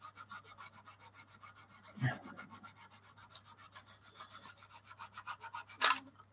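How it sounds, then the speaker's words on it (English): Steady back-and-forth rasping of sandpaper on the fuselage seams of a 1/24 plastic Spitfire model kit, dozens of quick regular strokes, close and fairly quiet, with a small knock midway and near the end. "when you're sanding, some of the sanding fragments will fill the hole"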